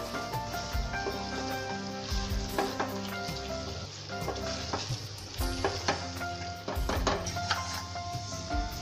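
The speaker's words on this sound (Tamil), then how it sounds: "நல்லா மிக்ஸ் பண்ணணும்" A spoon mixes a biryani masala mixture in a pot, steady scraping and stirring with sizzling underneath, close and fairly loud, with irregular knocks of the utensil against the pot and no talking.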